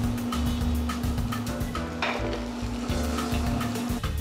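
Onion, garlic, ginger, green beans and dried shrimp sauté in a hot pan with a steady, loud sizzle, broken by repeated scraping and stirring strokes of a utensil against the metal.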